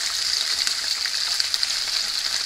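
Bell pepper fries with garlic in a hot pan for pepper-tomato fish soup, a steady close sizzle broken by faint scraping stirs.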